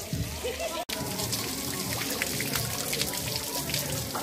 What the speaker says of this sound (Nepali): यहाँबाट ठ्याक्क नौवटा धारा छ, त्यही भएर यो ढुङ्गे धारालाई चाहिँ नौ धारा भनिँदो रहेछ